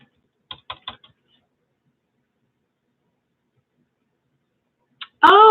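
A few quick keystrokes on a computer keyboard while typing a comment, a short cluster of close clicks followed by silence, then one more tap before a voice begins.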